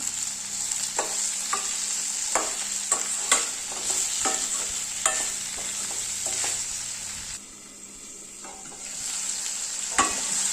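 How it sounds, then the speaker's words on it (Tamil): Tomatoes with rock salt sautéing in a pan for chutney, a steady close sizzle broken by repeated scraping stirs and clinks of a utensil against the pan, with no voices. "அதுக்கு தேவையான அளவு போட்டு இதிலே சேர்த்து வதக்கிக்கலாம்."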